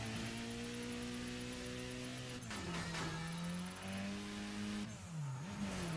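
A car drifts in the racing game Burnout Paradise, its engine holding a steady droning note before dipping and rising again as it slides, with a faint tire squeal under the sustained, fairly distant engine tone.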